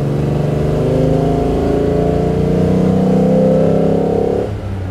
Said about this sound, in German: was dann auch sehr charakteristisch ist, ist dieser tolle Sound beim 300 SL